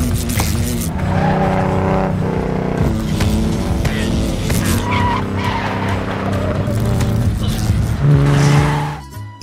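A Jaguar swerves recklessly while the driver chases a bee inside, tires squealing loudly over a revving engine, near and sustained with shifting screeches.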